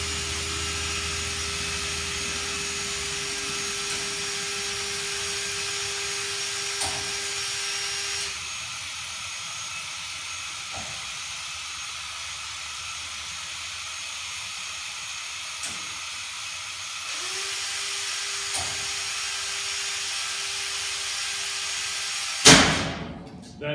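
An M393 SCAT waste machine runs its wash cycle with a loud, steady rushing hiss of water and air. A low hum shifts partway through, and a sharp clunk near the end suddenly cuts the sound.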